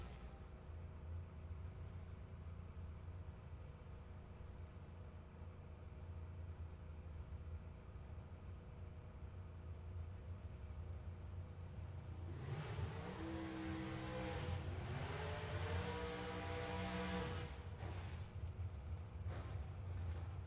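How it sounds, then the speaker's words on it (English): Drag racing cars at a strip during a Halloween weekend race event, a distant low engine rumble that swells into a loud roaring launch and pass midway, then fades, with no talk. "Pretty close drag race right here based on dial-ins."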